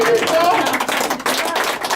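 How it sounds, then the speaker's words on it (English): Audience applause breaks out at an outdoor heritage site in Nazareth, a short burst of clapping from a small crowd, fairly close, mixed with voices. "Everyone, let's give Hannah a round of applause, please."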